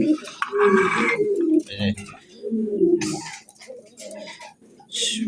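Pigeons coo and flutter at a pigeon breeding farm, several birds calling in short overlapping bursts close by, with a voice talking over them.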